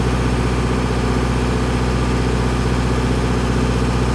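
A Miller Big Blue diesel welder generator engine idles under load test, producing a loud, steady, close-up rumbling drone with no pauses.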